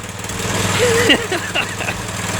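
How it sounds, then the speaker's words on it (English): A Predator 212 small engine from Harbor Freight idles with a steady low putter just after starting, while someone talks briefly over it up close. "on the second pull it fired right up and it's just purring"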